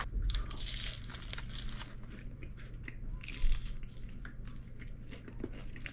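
Biting and chewing a creamy egg tart dusted with sugar powder and cinnamon, soft crunching and moist mouth sounds up close, with a sharper bite midway and a low steady hum behind.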